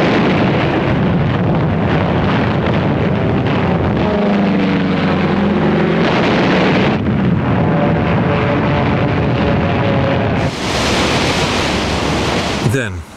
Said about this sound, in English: Wave after wave of American aircraft paved the way with a massive aerial